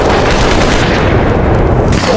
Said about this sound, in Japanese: 李村君、大砲を用意しろ。